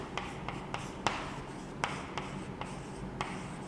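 Chalk or marker strokes on a lecture board, a series of close, crisp taps and short scratches in an irregular rhythm, the strokes alone with no voice.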